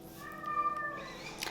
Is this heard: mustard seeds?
no